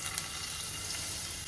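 Potatoes fry in hot oil with a steady, close, hissing sizzle and faint crackle throughout, loud and unbroken, with no voices over it.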